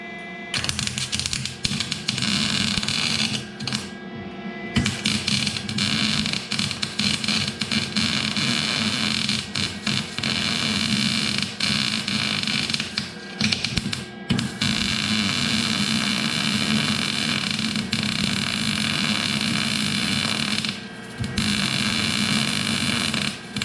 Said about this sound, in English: I'm gonna go ahead and run a bead of weld on this thing